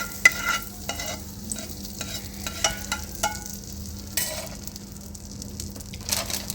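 Butter melting and being spread around a pan, with soft sizzling under repeated scraping strokes and light clinks, close and moderately loud.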